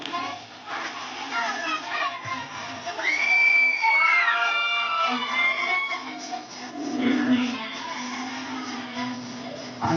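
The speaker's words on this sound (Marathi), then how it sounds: "या टाळ्या वाजवा" Audience at a hypnotism show with many children cheers and claps, a loud, sustained crowd swell with shouts and a high child's squeal rising above it.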